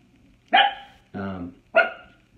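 A dog barks three times in close, loud bursts with short pauses between them; the second bark is lower and more drawn out.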